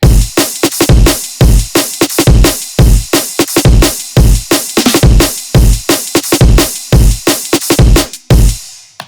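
A processed drum loop for an EDM drop, high-passed and EQed with softened highs, pounds out loud dense hits in a fast driving pattern, ending with a brief decaying tail.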